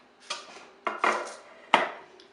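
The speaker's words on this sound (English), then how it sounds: "I'm going to spoon it into the muffin tray" A spoon scrapes and taps against a bowl and a metal muffin tray while apple maple muffin batter is portioned out, giving three or four close clinks and scrapes with short pauses between.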